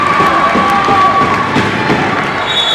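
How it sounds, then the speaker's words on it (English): A loud, close crowd at a college volleyball game cheers and shouts continuously, with children's shrill yells mixed into the steady roar. "Good St. Francis crowd tonight."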